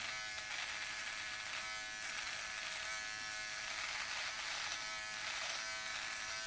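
Xiaomi 3-in-1 electric trimmer buzzes continuously while shaving the neck, a steady high-pitched whine held close and alone with slight rises as it moves.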